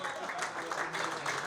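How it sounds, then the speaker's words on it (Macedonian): Crowd at a Tetex Tetovo generations reunion event clapping for a former player, a steady, fairly soft wash of applause lasting a moment without a break. "Ајде аплауз за Штела, не се штедите, заслужил овој човек."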